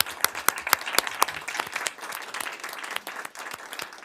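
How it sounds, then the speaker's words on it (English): People at a city council meeting applaud two dancers, sharp individual claps standing out at first before settling into a thinner, sustained patter of hands from a modest crowd. "just another round of applause for the two dancers"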